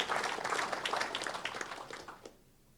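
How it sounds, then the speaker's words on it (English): An audience at a summer school session gives a team a round of applause, moderately distant clapping that tapers off and stops after about two seconds. "I want you to give these guys a round of applause."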